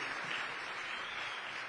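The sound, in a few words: church congregation applause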